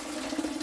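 Running water poured to wash the loosened skins off blended beans, a steady, even splash and trickle with no voices.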